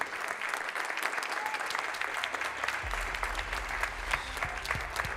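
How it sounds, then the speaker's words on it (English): Conference audience applauding an awarded building-renovation project, dense sustained clapping from a crowd in a hall, steady and moderately loud throughout with faint voices mixed in. "Give them a big applause."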